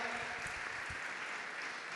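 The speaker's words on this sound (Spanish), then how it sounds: "un aplauso" Audience applause at a school event in Buenos Aires province, a steady wash of clapping from a crowd that holds at an even level throughout.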